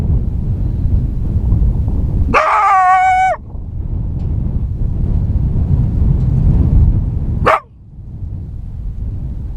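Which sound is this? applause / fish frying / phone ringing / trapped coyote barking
trapped coyote barking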